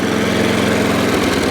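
An ATCO Balmoral cylinder lawnmower engine idles nearby with a steady, continuous low putter that holds even throughout, with no talking over it.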